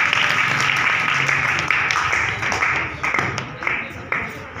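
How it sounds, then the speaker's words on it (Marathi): Audience applause at a prize ceremony for a painting competition and workshop, a steady mass of clapping that starts full and slowly thins out toward the end. "टाळ्या."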